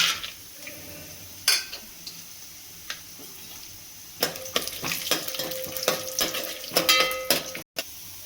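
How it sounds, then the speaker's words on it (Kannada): Peanuts and cashews roasting in a couple of spoons of hot oil in a pan, with soft intermittent sizzling and sharp ticks and clinks of a utensil against the pan, growing busier toward the end. "ಫಸ್ಟು ಈ ಶೇಂಗಾ ಮತ್ತು ಗೋಡಂಬಿನ ಹುರಿದ್ಬಿಟ್ಟು ಎತ್ತಿಟ್ಕೊಬೇಕು."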